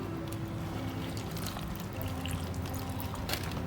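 Water mixed with liquid fertilizer is poured into potted plants growing in LECA clay pebbles, a soft continuous trickling and splashing with scattered small clicks, fairly quiet and unbroken throughout.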